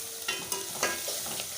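Spices (red chili, turmeric and ground coriander) lightly roasting in hot oil for turnip bhujiya, giving a bright continuous sizzle with a few stirring scrapes, no talking.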